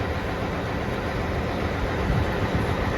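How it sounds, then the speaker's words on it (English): A Mount Washington Cog Railway diesel hydraulic locomotive, built in-house, runs close by with a steady, dense broadband rumble and rattle that holds at an even loudness throughout, with no voices. "these diesel hydraulic locomotives that we build ourselves"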